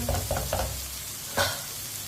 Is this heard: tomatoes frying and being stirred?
yes